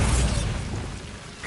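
Bombarda blasting spell in the Hogwarts Legacy video game: a loud low rumbling burst at the start that fades into a dull rushing decay, with a faint crackle near the end.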